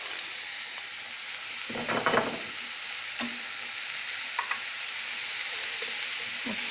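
Diced zucchini and frozen sweet pepper sizzling steadily in a hot pan, with a few bursts of stirring and scraping from a utensil, close by.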